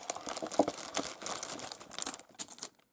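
Plastic advent calendar bags crinkle and rustle steadily as hands rummage through a large pile of them nearby, ending in a brief pause.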